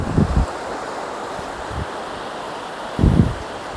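Waves break on Tajpur beach with two louder surges at the start and near the three-second mark over a constant windy wash of surf, with no speech.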